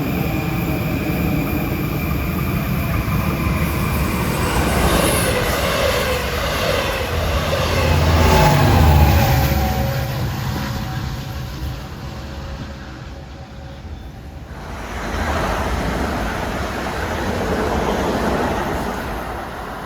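An LIRR train, train 7 from Montauk to Long Island City, rolls through Forest Hills station in the morning rush, a loud, steady rumble of wheels and cars that swells mid-pass, dips briefly, then rises again.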